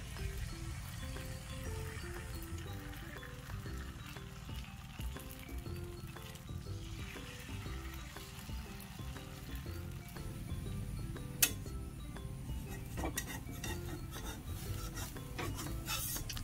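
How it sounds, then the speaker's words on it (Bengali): Batter goes into a wok and gets spread around in circles with a metal spatula, giving a steady scraping and rasping with occasional clinks, close and continuous. "এই যে এবার গোলাটা দিয়ে দিচ্ছি, দিয়ে এবার খুন্তি দিয়ে সুন্দর করে চারদিকে গোল গোল গোল গোল করে দিয়ে দেবো।"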